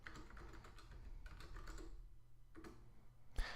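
A folder name is typed on a computer keyboard, giving quiet, quick clusters of key clicks in an irregular rhythm, close to the microphone, with a slightly sharper tap near the end and no talking.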